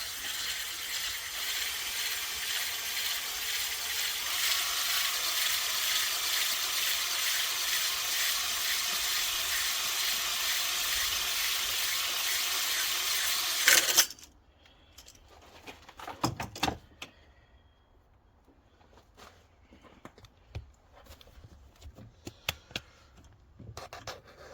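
A drill bores into an aluminum Honda D16 engine block, a loud, steady high grinding whine for about fourteen seconds, then stopping abruptly, followed by scattered metallic clicks and scrapes.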